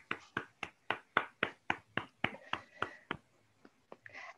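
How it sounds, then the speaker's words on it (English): Applause for the Toastmaster at a Toastmasters club meeting, heard as a run of sharp, evenly spaced claps that gradually thin out and fade toward the end, fairly close and clear, with no talking over it. "let's keep the applause going for our wonderful Toastmaster of the meeting"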